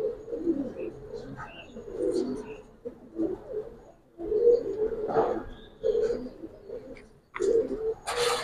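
Giribaz pigeons cooing close by, a run of low, throaty rolling coos repeating in uneven bursts, with faint chirps and a little background noise between calls.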